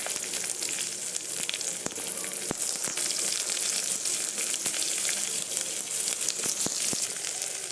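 Chopped onions fry in hot oil in a pan with bay leaves, for a Bengali curry of green banana, potato, eggplant and red lentils. A steady, fairly quiet sizzle runs throughout, with a few faint clicks from the pan.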